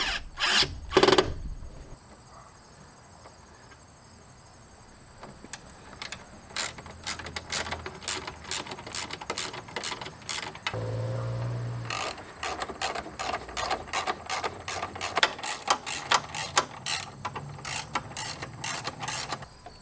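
A wrench tightens a screw into a pre-drilled hole while a switch panel is fitted in a Jeep JK. Rapid ratcheting clicks come in bursts, close and fairly quiet, with brief pauses and a short low scrape.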